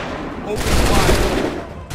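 A massed musket volley in the Assassin's Creed 3 video game: a dense, loud burst of overlapping gunfire rolling for about a second amid battlefield noise, with shouted commands nearby.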